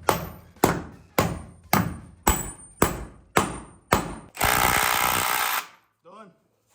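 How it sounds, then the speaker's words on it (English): A sledgehammer taps a wedge anchor bolt with eight sharp, evenly spaced metallic strikes, each ringing briefly. A loud burst of broadband noise follows, then a man's short remark. "That's so you can tap on that with the sledge and set it."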